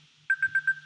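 A phone ringtone plays a quick run of four short, bright electronic beeps in an even rhythm, moderately loud over a faint hum.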